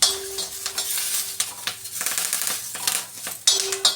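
Tomato and curry leaves frying in tempering oil in a pan give a crackling sizzle with irregular spattering pops and bursts of stirring, close by, and a faint hum runs underneath.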